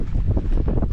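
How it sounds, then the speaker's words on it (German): Wind gusting across an exposed mountain ridge near the Watles summit in South Tyrol, buffeting the microphone with a steady low roar and no voices. "Es ist relativ windig hier, weil es komplett mehr oder weniger auf so einen Bergkamm hier ist."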